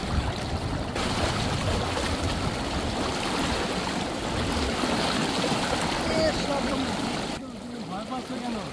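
Water of the Damodar river rushes and churns steadily as people wade across, a dense broadband wash that holds loud throughout, with voices talking over it near the end.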